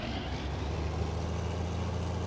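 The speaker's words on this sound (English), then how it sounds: "That tractor seems quite loud." A tractor engine drones in a farming simulation game, a steady low rumble that stays constant and fairly quiet throughout with no talk over it.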